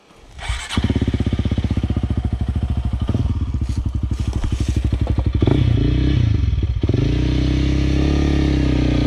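A Honda CRF300L motorcycle cranks and fires up, then settles into a loud, steady, close-up engine chug with rising revs and a brief throttle blip near the end, on a hill-climb outing.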